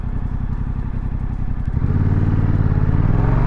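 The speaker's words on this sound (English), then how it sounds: "The engine kind of peters off up at the top, but that's to be expected from a parallel twin engine." Yamaha R7 parallel-twin motorcycle engine under way, a loud, steady pulsing drone that steps up in pitch and intensity about halfway through as the rider accelerates, with no talking.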